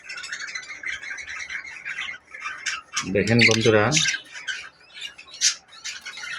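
Caged pet lovebirds chirp continuously, and a loud burst of harsh squawking rises for about a second midway through, with someone talking over the birds.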